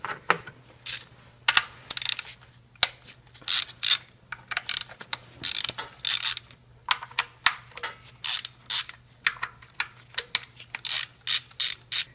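Four 10mm bolts being removed from a Toyota 1ZZ-FE engine with a ratchet wrench, giving loud close bursts of rapid clicking separated by short pauses, with no talking.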